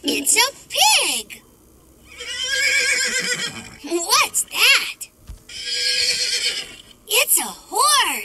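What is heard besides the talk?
horse neighing, toy sound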